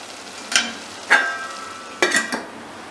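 A few sharp metal scrapes and clinks of a spoon against a pan as brain masala (bheja fry) is dished out, four quick strikes over a faint background hiss.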